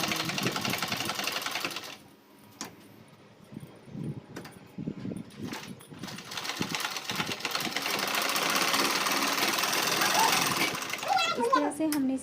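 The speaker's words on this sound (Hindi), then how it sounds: "अब हमने जहाँ पे निशान लगाया है उसी निशान में हमने सिलाई लगा दी है।" A sewing machine stitches along a marked line on a round-flared kurti neckline, its rapid mechanical chatter loud and close, with an overlapping voice and a short pause before the machine runs steadily again.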